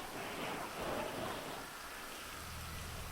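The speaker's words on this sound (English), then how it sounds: "The wind, the rain." Inside GTA 5, wind-driven rain pours steadily with a low rolling rumble of thunder, the storm close and enveloping but moderately quiet, with no voices.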